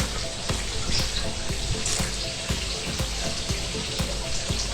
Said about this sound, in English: A lot of water is coming out.